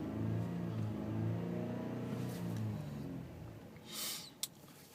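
A 2012 Ford F-150 EcoBoost engine revs up near the rev limiter and falls back to a low rumble, heard close and loud for a few seconds, followed by a brief hiss and a sharp click.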